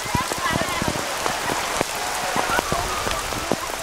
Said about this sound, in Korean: 비가 멈추기를 기다려보지만 더욱 거세질 뿐입니다